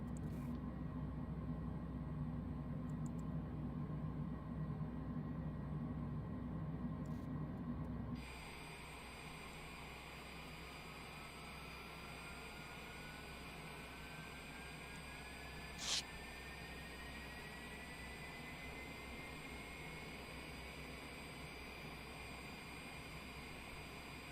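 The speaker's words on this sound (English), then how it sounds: "we're going to go start engine 1." Aircraft engine 1 spooling up during start in Microsoft Flight Simulator, a steady jet roar with a rising whine building gradually over a constant background hum, with a brief click partway through.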